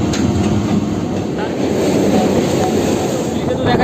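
A Kolkata Circular Rail local train runs along near Howrah Bridge, with a loud, continuous rumble and rattle of wheels on track heard close up from inside, while someone speaks over it.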